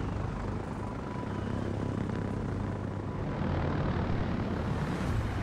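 Steady droning roar of torpedo bomber aircraft engines in World of Warships, a loud unbroken propeller hum holding level throughout.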